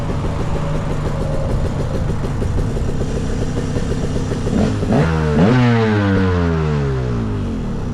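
A rebuilt KTM 300 two-stroke motorcycle engine clatters as it is cranked with the starter, then catches and revs up and down loudly and close, pitch sweeping with each blip of the throttle.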